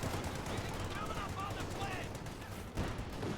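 Machine gun bursts and scattered gunfire from a Company of Heroes 2 battle, with an anti-tank squad on the flanks under sustained fire; the dense rattling stays steady and fairly loud throughout.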